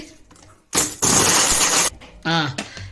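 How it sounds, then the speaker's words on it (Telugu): A mixer grinder whirs loudly as it grinds raw masala for tomato bath, one close burst lasting about a second, with a voice speaking before and after it. "మిక్సీ పట్టుకున్నామండి."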